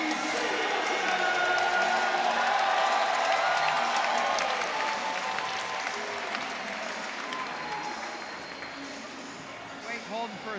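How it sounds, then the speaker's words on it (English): Home crowd applauding at an NC State college wrestling match, a dense, sustained wash of clapping and cheering that fills the arena and slowly eases over about ten seconds. "a warm reception from this home crowd"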